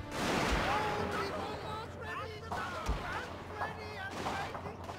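Muskets and cannons fire in a Shogun 2: Total War battle, dull booms and cracks scattered under a continuous din of battle noise, with someone talking over the fighting.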